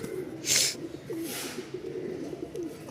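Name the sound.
pigeon cooing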